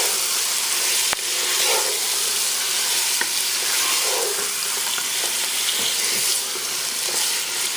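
Meat sizzles loudly in hot oil with fresh ginger and garlic as biryani is cooked, a continuous dense frying hiss with occasional clinks and scrapes of stirring, close and without talk.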